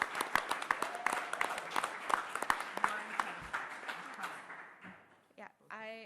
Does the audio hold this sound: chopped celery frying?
no